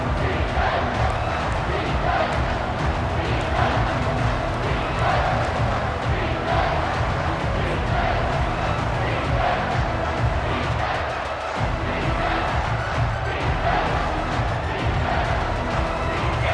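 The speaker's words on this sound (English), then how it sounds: "if you didn't know this was a big play, the crowd is telling you" A football stadium crowd at NC State versus Duke roars loud and sustained for the whole stretch, with a brief dip before the noise surges again, on a big third-down play.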